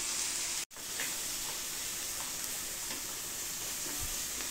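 Tomatoes sautéing in a pan give a moderate, even sizzle throughout with a short dropout early on and faint stirring scrapes.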